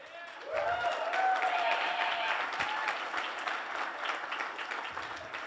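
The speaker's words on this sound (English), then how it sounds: "Keep the laughter and the clapping coming." A comedy club crowd at a live stand-up show claps at moderate volume, a steady wash of hands with some cheering and a whistle-like tone rising at the start.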